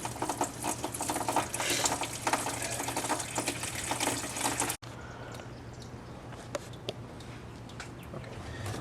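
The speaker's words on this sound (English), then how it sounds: "just removing that one lower right hand bolt from the water pump is the best way to drain it" Coolant gushes and splashes steadily from the removed lower bolt of a 1996 Chevrolet Impala SS water pump, loud and hissing at first, then abruptly dropping to a quieter trickle with scattered drips.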